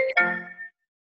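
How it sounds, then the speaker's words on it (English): A mobile phone ringtone chimes briefly during an online class call, a short bright electronic melody of a few tones that rings out clearly and then cuts off abruptly into silence. "Whose phone is ringing?"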